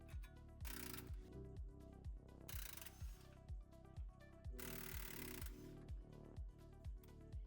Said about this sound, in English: we're going to loosen the remaining Torx bolts so they have a 1/2 inch clearance from the frame